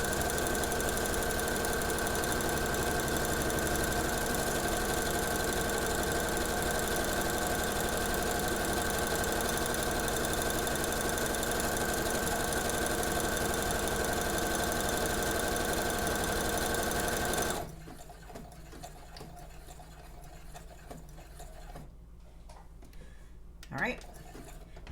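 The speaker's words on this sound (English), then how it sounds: "Put the presser foot down, sink my needle, go." A domestic sewing machine stitching a buttonhole runs with a steady loud mechanical whir and hum for most of the stretch, then stops, leaving quieter room noise and a faint click.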